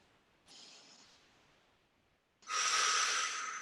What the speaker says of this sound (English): Long, deep breaths in through the nose and slow releasing breaths out through the mouth